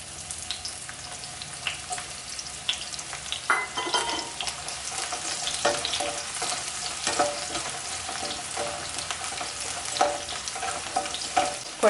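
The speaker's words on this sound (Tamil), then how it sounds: "இப்போ பெரிய வெங்காயம், நறுக்கி வச்ச வெங்காயத்தை இப்போ வறுத்துக்கலாம்." Sliced large onions frying in about four tablespoons of oil for chilli paneer, a steady close sizzle with occasional stirring scrapes and pops, no voices over it.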